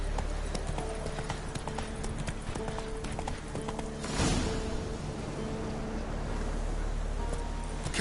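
Roach the horse clip-clops at a steady gallop rhythm in The Witcher 3, hooves thudding continuously under wind and faint background game music, with one louder gust midway.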